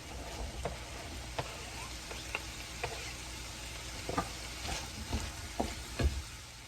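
Onion goes into a skillet for old-fashioned American goulash, sizzling softly with intermittent scraping and clicking as a utensil stirs it, no voices.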